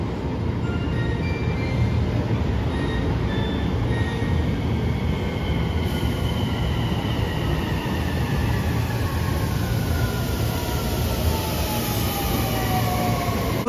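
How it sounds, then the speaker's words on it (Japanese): Sunrise Seto sleeper express pulling into a platform at a Japanese station: steady rolling rumble of carriages with rising and falling wheel and brake squeals, loud and sustained throughout. "2番乗り場には寝台特急サンライズ瀬戸号高松経由琴平行きの列車到着"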